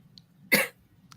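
A single short cough close by, sharp and loud against a quiet background.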